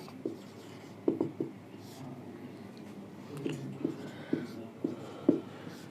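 Pen on paper while working a Class 10 trigonometry exercise, a series of soft scratchy strokes and taps in an irregular rhythm, close and quiet, with faint voice in the background.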